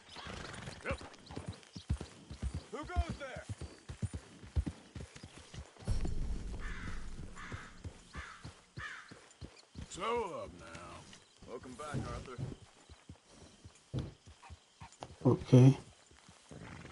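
Horse hooves clip-clop in Red Dead Redemption 2, rhythmic strikes mixed with a whinny and other game sounds, while someone talks over much of it.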